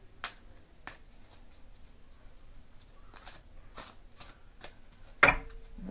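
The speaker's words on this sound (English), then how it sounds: "More shuffle on these." Tarot cards from the Marchetti Tarot of Dreams being shuffled, a series of crisp riffling slaps and flicks in uneven bursts, close and fairly quiet, ending in a sharper snap.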